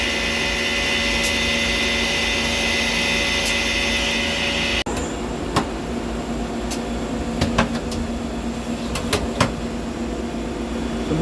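Citizen Miyano BMX-51MSY seven-axis CNC lathe running a dry cycle, a steady mechanical whir and hum that shifts abruptly midway, then carries scattered sharp clicks and ticks from the turret.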